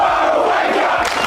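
Cricket fans in the Bay 13 stands at an Australian match raise a loud, continuous roar of chanting and shouting, a dense crowd noise that fills the short moment without pause.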